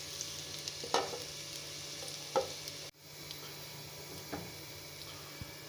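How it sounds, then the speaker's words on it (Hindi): Chilli garlic potato bites stir-fried in a pan, a steady close sizzle with occasional scraping stirs of a spoon against the pan, with no speech over it. "20 से 25 सेकंड तक भून लेंगे अच्छी तरह।"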